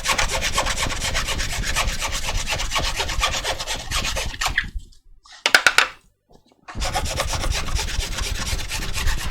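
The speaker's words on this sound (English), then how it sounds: "when you're filing the plastic, it will get hot again" A file rasps steadily against plastic floppy drive parts, loud rhythmic back-and-forth strokes that stop for a moment, resume briefly, pause again and then continue.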